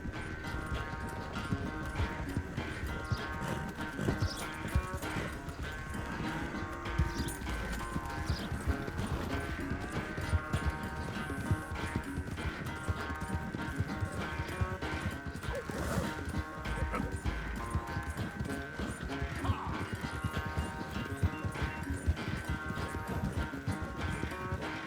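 Horse hooves galloping in a race in Red Dead Redemption 2, a steady rapid clatter running under dense game music and ambience throughout, with occasional sharper knocks.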